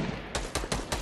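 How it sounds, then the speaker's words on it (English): Gunfire in Fortnite Battle Royale, four sharp rapid shots in even rhythm within about a second, loud and close, with no voices over them. "Who's shooting?"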